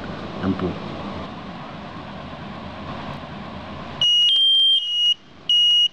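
After a few seconds of quiet room hiss, a wireless smoke detector's buzzer sounds in two loud, shrill electronic bursts, the first longer than the second.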